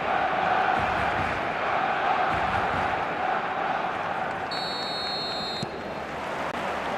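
A large stadium crowd in the eFootball video game roars in a steady, dense wash of cheering and chanting, with a brief electronic beep toward the end.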